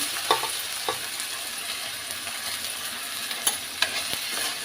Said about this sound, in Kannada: ಈಗ ಇದಕ್ಕೆ ಕರಿಬೇವು ಸೊಪ್ಪು ಶುಂಠಿ ಬೆಳ್ಳುಳ್ಳಿ ಹಾಕೊಳ್ತಿದ್ದೀನಿ